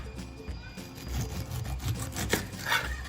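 A knife scrapes and saws through the tough outer skin of a pineapple in short, uneven rasping strokes, close and fairly quiet, with no talking.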